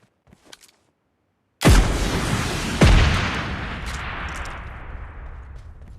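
A video game RPG rocket is fired with a loud blast, followed about a second later by a second heavy explosion, with long rumbling decay and no talk over it.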